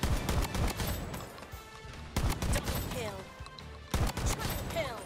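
Bursts of weapon fire in the shooter game Bloodstrike, three rapid clusters of loud shots separated by short pauses, with a voice talking over and between the volleys.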